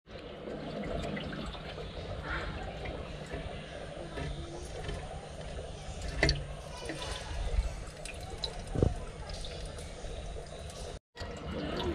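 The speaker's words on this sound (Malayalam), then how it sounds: "ആദ്യം നമുക്ക് വെള്ളം നിറക്കാം" Water fills an aquarium tank with a low, steady pouring and splashing, quiet and continuous, with a couple of brief knocks partway through.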